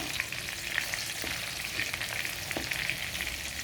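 Chicken longganisa sizzles steadily in a pan, a dense, even crackle of frying with a few soft stirring knocks, close and continuous with no talking.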